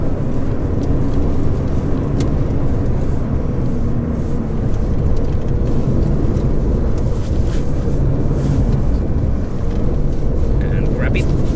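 A Porsche 993 rally car on spiked tires slides on ice in Finland, its engine roaring loud and steady beneath heavy wind and road rumble, with a voice talking over it.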